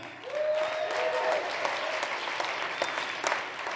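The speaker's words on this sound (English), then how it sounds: "Let's clap it up for them." Steady, dense audience applause fills a room at a winter speaker series near Lake Tahoe, thanking the North Tahoe Chamber as a sponsor, with a brief thin whistle-like tone early on and the clapping holding strong before easing slightly.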